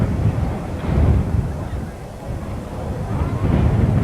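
Wind at an outdoor track meet buffets the microphone in a heavy, low rumbling roar that swells and eases in gusts throughout.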